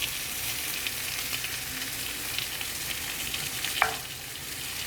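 Half a stick of butter melting on a hot griddle, a faint, even sizzle and hiss throughout with one small clink of a utensil near the end, no voices.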